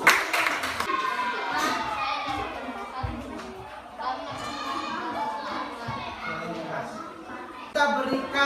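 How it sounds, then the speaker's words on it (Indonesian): Children in an elementary school classroom clap for group 1, a loud burst of applause at the start and again near the end, with children's voices chattering throughout. "Mari kita berikan tepuk tangan untuk kelompok 1."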